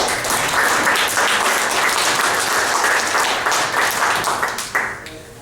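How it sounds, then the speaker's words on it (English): An audience at a London university event for the International Day Against Homophobia gives steady, dense applause, with loud continuous clapping that tapers off near the end. "round of applause"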